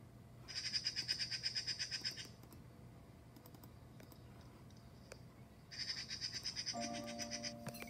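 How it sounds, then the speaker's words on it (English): A magpie gives two bursts of harsh, rapid chattering calls, each lasting about two seconds and separated by a quiet gap, fairly near against a faint background hum. "Magpie."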